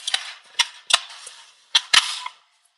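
Glass salsa jars on a tray clink and clatter against each other in several sharp, uneven bursts, close by, with brief quiet gaps between.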